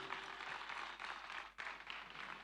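Audience clapping at a devotional bhajan night at an ashram's annual festival, welcoming a new singer; dense, steady applause filling the clip with a brief dip near the middle, no speech over it.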